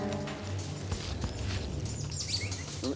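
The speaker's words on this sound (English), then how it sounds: "Hear those birds?" Birds chirp and tweet in quick, high bursts in Panama over a steady rustling, pattering background, with a low hum running underneath.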